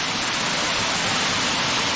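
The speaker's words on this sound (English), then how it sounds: "That's a pretty waterfall." Steady, loud rush of a waterfall on a creek, a dense continuous roar of falling water filling the whole moment with no voices.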